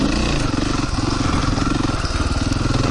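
A motorcycle engine runs steadily and close by during a single-track trail ride, a continuous low, throbbing drone with slight rises in revs and no pauses.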